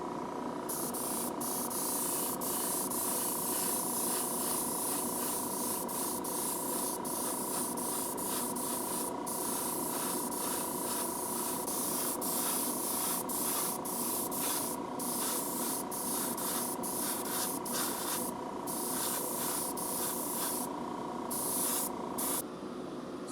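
Spray paint hisses steadily onto a vintage Redline bike part, a close, continuous airy spray broken by brief pauses and short bursts, with no talking throughout.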